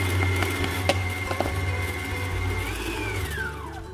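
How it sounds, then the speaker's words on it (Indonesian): An electric mixer whirs through chocolate cupcake batter with flour, its motor humming steadily close by, with a few clicks and knocks before the pitch drops as it winds down. "kalau udah tercampur rata langsung matikan, nggak usah lama-lama di mixernya"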